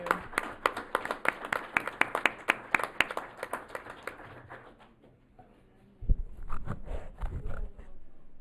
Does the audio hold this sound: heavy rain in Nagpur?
no